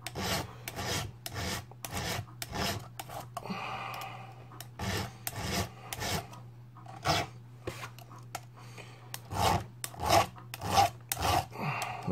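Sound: filing rakers on an older chainsaw chain

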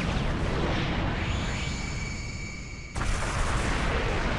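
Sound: big explosion in video game Naruto Shippuden Ultimate Ninja Storm 4

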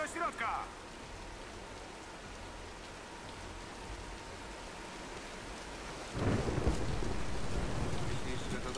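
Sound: thunderstorm with rain in video game Tomb Raider (2013)

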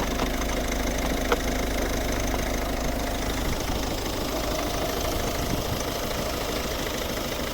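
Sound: diesel car engine idling

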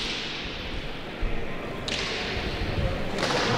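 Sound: Basque pelota ball struck on the opening serve

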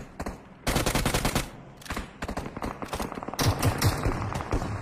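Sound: UMP gunfire in video game PUBG Mobile

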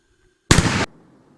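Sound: firecracker exploding under a pot

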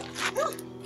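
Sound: dogs barking

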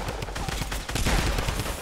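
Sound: gunfire in Fortnite video game

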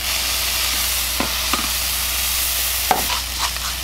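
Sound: jalapeño cheese burger sizzling as it cooks

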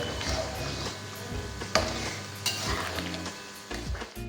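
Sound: stirring and frying paneer tikka masala in a pan

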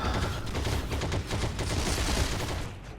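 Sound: Thompson submachine gun fire in Heroes & Generals video game

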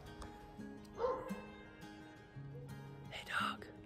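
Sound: dog barking

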